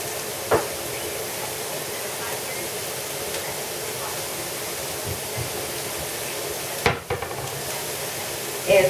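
Salted onions sautéing in a pan for calabacitas with cubed pork and zucchini give a steady, soft sizzling hiss, broken by a few brief knocks and clatters.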